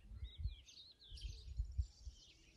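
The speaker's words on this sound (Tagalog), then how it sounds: "mga huni ng ibon na yun," Birds call and chirp outdoors in a quiet rural spot in the Philippines, with several thin, high, warbling notes in quick succession over faint low background rumble, moderately distant and soft.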